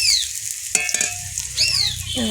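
Garlic frying in hot oil for a crab curry with Malabar spinach and potatoes, giving a steady close sizzle broken by a few sharp clinks and scrapes, with faint whistling tones above.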